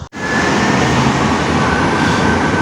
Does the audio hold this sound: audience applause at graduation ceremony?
no